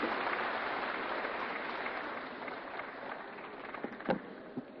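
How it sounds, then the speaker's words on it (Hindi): Steady, dense applause from a large audience for the chief minister at a public event, continuous crowd clapping with a few louder claps near the end. "जोरदार तालियां माननीय मुख्यमंत्री जी के लिए।"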